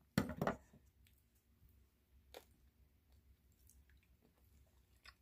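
Someone chews crispy cooked pork belly skin up close, with a burst of loud crunching bites at the start, then quieter scattered chewing and soft clicks.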